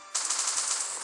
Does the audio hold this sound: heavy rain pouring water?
no